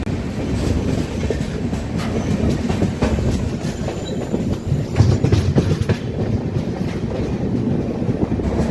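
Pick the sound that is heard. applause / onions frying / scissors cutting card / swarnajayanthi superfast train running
swarnajayanthi superfast train running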